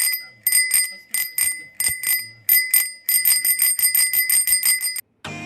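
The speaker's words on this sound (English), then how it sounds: "it was getting better and better the more I rang the bell." A Walmart bicycle bell, model SW77672-4, rings repeatedly in quick bright dings, at first in short separate bursts and then in a faster continuous run, loud and close, ending with a brief clatter.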